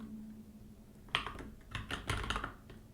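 Close computer keyboard typing with a handful of soft clustered keystrokes ending in a key press like Enter, over a quiet background hum while a React project is set up.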